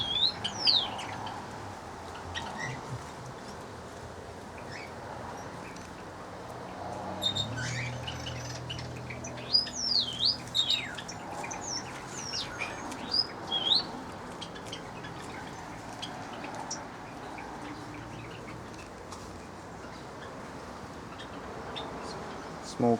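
Small birds chirp and tweet in an outdoor aviary holding Java sparrows, with scattered high calls over a steady, rustling background and some low rumbling activity. The chirps are fairly faint and irregular throughout.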